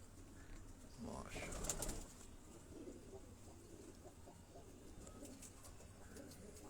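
A Teddy breed pigeon coos softly and faintly nearby, its low murmuring calls rising in the first couple of seconds against a quiet background, while people talk at a low level.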